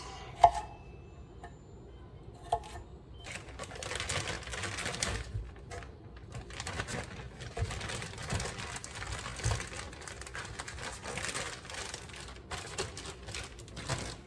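Scrubbed, unpeeled carrots and other vegetables are chopped on a board with quick, irregular knife taps, close and fairly loud, with brief pauses between runs of cuts.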